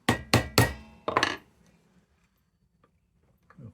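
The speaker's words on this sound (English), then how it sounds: "hit it with a hammer." Sharp metallic hammer blows strike a 1929 Dietz Vesta railroad lantern: three quick hits, then a fourth ringing strike after a short pause, each close and loud, followed by near silence and a faint clatter.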